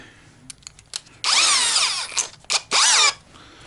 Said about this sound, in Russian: Берем сверлушки, наши сверлушки.